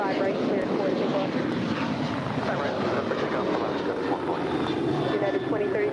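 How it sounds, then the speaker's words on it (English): An Alaska airliner takes off from LAX runway 25 right, a steady, loud broadband engine roar that holds throughout, with radio voices talking over it. "Alaska 440, RNAV 2 Delta, runway 25 right, clear for takeoff."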